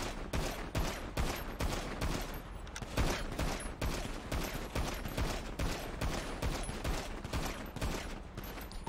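Steady bursts of video game gunfire in a GTA roleplay shootout aimed at a helicopter's tail, rapid regular shots cracking over a constant low engine drone with no voices.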